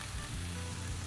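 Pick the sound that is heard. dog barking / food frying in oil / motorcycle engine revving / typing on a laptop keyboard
food frying in oil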